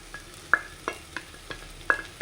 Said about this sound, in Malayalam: ഇനി നമുക്ക് അതിലേക്ക് ചിരകി വെച്ചിരിക്കുന്ന നാളികേരം ഇട്ട് കൊടുക്കാം